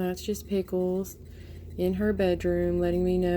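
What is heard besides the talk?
No distinct noise like a dog, phone or traffic.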